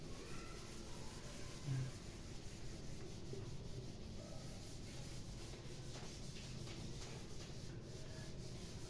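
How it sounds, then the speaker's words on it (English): Equations being rubbed off a board: a faint, steady, scratchy rubbing texture that continues for about nine seconds with no speech over it. "I am rubbing these equations."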